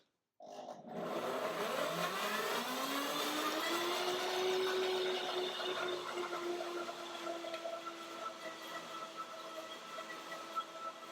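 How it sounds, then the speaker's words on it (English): A German Rainbow blender whirs through a lemony banana yogurt dressing, starting abruptly with a loud motor roar whose pitch climbs and then settles into a steady, sustained hum that continues to the end. "This is a German blender, by the way."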